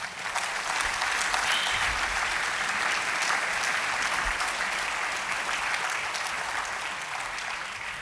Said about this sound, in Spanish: Démosle un aplauso de bendición a todos ellos